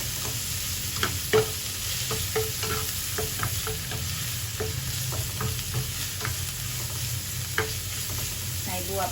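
Minced pork stir-fried in a pan for a pork-and-luffa egg dish: a steady close sizzle with scattered sharp scrapes and clinks of the spatula throughout, no voices.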